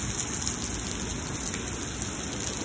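A thunderstorm in Lubbock, Texas brings a relentless downpour, a thick, constant hiss and patter of heavy rain striking surfaces nearby with no letup.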